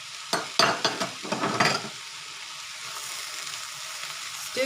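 Bacon added to onions sizzling in a pan, a burst of stirring clatter and loud sizzle at first, then a steady softer frying hiss, close up with no speech.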